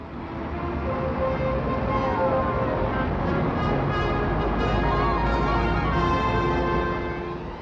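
Busy traffic on Oxford Street, London, forms a dense continuous roar of engines, with a wavering siren-like tone rising and falling over the rumble; it swells slightly toward the middle and fades a little at the end.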